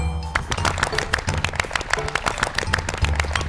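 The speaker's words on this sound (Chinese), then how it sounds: "鼓掌！" An audience at a youth talent show applauds with dense, rhythmic clapping that carries steadily through the moment, fairly loud and close.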